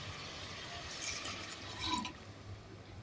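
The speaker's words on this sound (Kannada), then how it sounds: "4 ಲೋಟ ನೀರು ಹಾಕ್ಬೇಕು." Water is poured into a pot of rice being cooked, a steady moderate splashing and filling sound with a brief louder gush near the middle, close by and heard alone.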